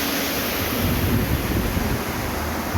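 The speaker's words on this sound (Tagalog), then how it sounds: "Ang lakas ng tubig." A strong river current rushes steadily over the Balanac River dam in Magdalena, Laguna, making a dense, loud, unbroken roar with no voices over it.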